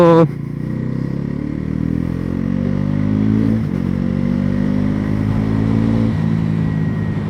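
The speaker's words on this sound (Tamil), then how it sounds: "வண்டி எஃபர்ட்லெஸ்ஸாக ஆக்சிலேட் ஆகிட்டு போயிட்டுருக்கு." A Bajaj Pulsar NS400Z motorcycle engine revs up steadily in pitch as it accelerates in second gear, loud and close, with a brief shift midway before climbing again.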